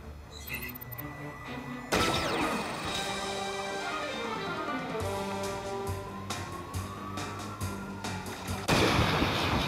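Gunfire from the Men in Black mobile shooter game against disguised alien targets, loud repeated shots and impacts over game music and effects, with someone talking throughout.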